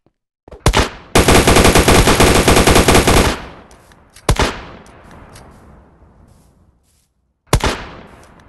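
AK-47 gunfire in a Minecraft PUBG game: a sustained loud automatic burst lasting about two seconds, followed by two single loud shots that ring out and fade.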